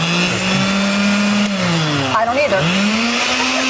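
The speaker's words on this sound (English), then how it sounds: "all we got to do is turn it on, and we do hope this works because I don't remember the last time we used this blender" Kitchen blender whirring loudly and steadily at close range, its motor pitch dipping briefly under load before recovering, while people talk over it.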